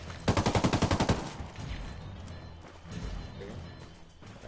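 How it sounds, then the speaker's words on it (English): Rapid burst of about ten close, sharp gunshots from Ghost Recon Wildlands, fired in an even automatic rhythm for roughly a second, then followed by quieter game noise and faint rumbling. "Got some good shots on there."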